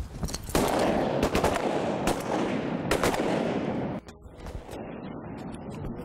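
Rapid shotgun blasts ring out during a duck hunt in trees, several loud sharp reports in quick bursts over the first four seconds, then quieter scattered shots and outdoor noise.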